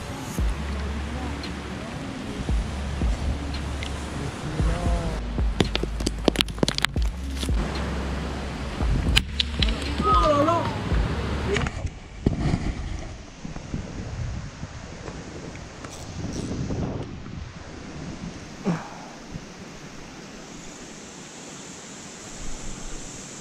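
Wind blusters across the microphone at an outdoor carp-fishing competition, a steady rough roar with gusts, overlaid by handling bumps and clicks, with people talking intermittently.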